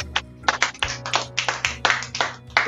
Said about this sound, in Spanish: aplausos allá en cabina